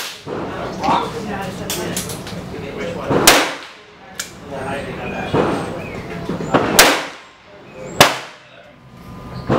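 .45 Colt revolver firing Lee 452-255 RNFP cast bullets in powder coat, four sharp loud reports spaced a second or more apart, with quieter background sound between them.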